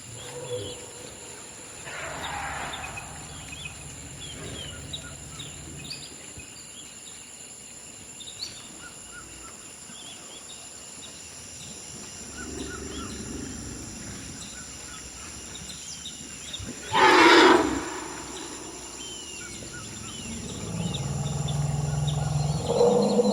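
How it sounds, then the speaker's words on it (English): African forest elephants call to each other at rainforest mineral pits, with distant low rumbles and one louder trumpeting blast, set against a constant insect and bird chorus. "here you'll hear a bunch of elephants basically talking to each other, negotiating over the mineral pits that they're there to drink from"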